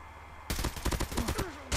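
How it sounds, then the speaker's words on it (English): A sudden rapid burst of loud gunfire in a mobile shooter video game, several shots in quick succession, then another blast at the end. "More gunshots though."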